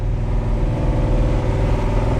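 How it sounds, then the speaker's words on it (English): 1967 Chevelle with headers, its engine droning steadily while driving, a deep continuous rumble heard from inside the car with mild revving. "All right, well, we're doing the drive on the Chevelle."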